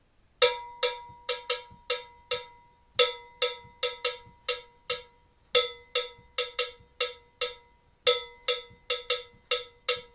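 A cowbell plays a repeating West African rhythmic pattern, each phrase opening with a noticeably heavier hit followed by lighter strokes, loud and close with no talking.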